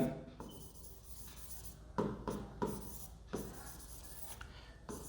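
Chalk or marker scratches out equations on a board in several short strokes and taps, faint and close, with gaps between strokes.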